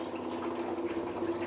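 Rinse water from a freshly washed mixer jar is poured into a pan of chana masala, a steady close splashing trickle with a faint hum underneath and no talk.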